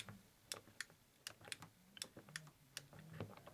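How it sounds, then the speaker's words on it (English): An Arcade1up Galaga cabinet's joystick clicks as it is moved, a rapid series of small, sharp, close plastic clicks at an irregular rhythm over a low background hum. "when I move this joystick, normally you can hear the click"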